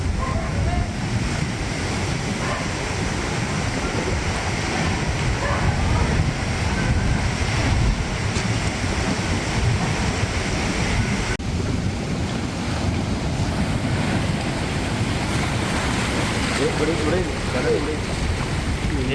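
Rough sea waves surge onto a shore hit by sea erosion, where seawater has flooded into homes: a continuous, churning wash of surf with heavy wind buffeting the microphone, steady and close for the whole stretch.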